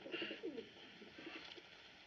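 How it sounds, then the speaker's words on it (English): A US Army Signal Corps carrier pigeon coos softly in a few short, low, rolling calls over a quiet background hiss, with no talk. "United States Army carrier pigeon number 13576."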